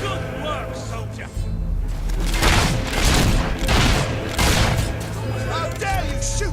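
Soldiers firing on the king's men in the Fable III video game, a rapid series of loud gunshot bursts and booms over battle ambience with voices talking throughout.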